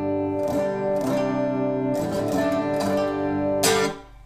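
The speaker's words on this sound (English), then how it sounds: "Go ahead and give you my clean tone." An electric guitar on a clean tone with a quarter-note delay plays ringing strummed chords and notes, close and steady, with repeats trailing under each attack and no talking.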